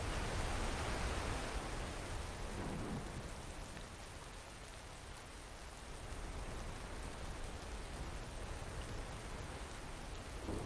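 Rain in a Roblox video game storm: an even, hissing downpour that holds steady for several seconds, soft and unbroken, with only a faint dip midway and no talking.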